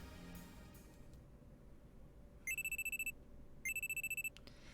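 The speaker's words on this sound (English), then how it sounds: "Sleeping on the couch when a loud alarm rings in my ears." A phone alarm in the Steins;Gate video game rings in two short bursts of rapid electronic beeps, loud and clear over a quiet background hum.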